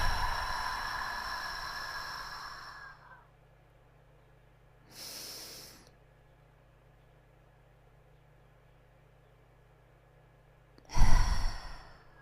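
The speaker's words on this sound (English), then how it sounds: "Excuse me about the breath right in your ear." Close breaths right at the microphone: a long exhale fading out, a short soft breath in the middle, then a sharp loud breath near the end, with quiet gaps between and no talking.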